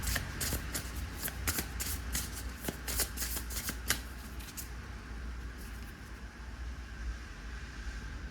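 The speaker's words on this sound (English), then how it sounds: "Oops, I'm trying not to reverse shuffle this." Oracle cards from a tarot-style deck being shuffled by hand, a run of crisp rapid riffling bursts over about four seconds before settling into quiet room tone.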